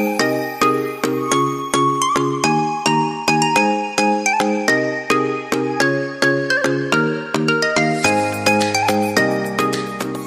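A phone's melodic ringtone plays loudly and steadily as a repeating tinkly tune of synthetic bell-like notes, shifting to a different tone near the end, with no talking over it.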